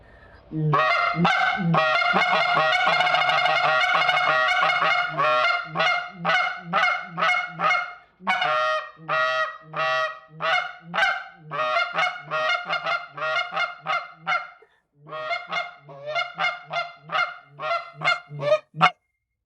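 A goose hunting call blown by hand, giving a long run of close, loud honks and clucks, a sustained stretch of rapid notes first, then choppier separate bursts with short gaps.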